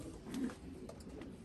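Racing homing pigeons coo in a loft holding stock birds, a soft low throaty coo rising near the start then fading into a steady murmur of birds close by.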